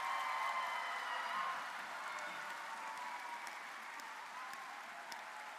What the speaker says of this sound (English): So can we just have a round of applause to all the teachers that we have?